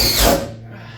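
A power drill drives a 3/4 inch self-tapping screw into aluminum inside an enclosed trailer, one short whirring burst that peaks quickly and then winds down within a second.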